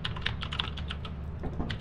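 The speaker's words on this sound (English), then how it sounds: "Ah, the sweet sound of mechanical keyboard." Rapid, steady clicking of keys on a mechanical keyboard, a dense run of crisp clacks heard up close with no speech.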